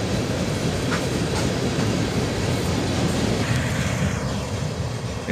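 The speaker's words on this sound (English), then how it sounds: "the end of the train goes by" Close and steady, a CSX freight train passes by, its cars rumbling with a continuous clatter of wheels on rail joints that eases slightly near the end.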